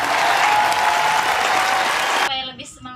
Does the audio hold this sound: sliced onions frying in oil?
no